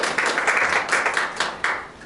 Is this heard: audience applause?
yes